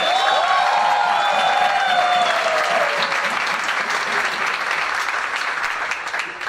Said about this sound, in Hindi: जनार्दन के लिए जोरदार तालियां